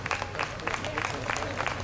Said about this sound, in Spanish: Si quieren un aplauso a los americanos.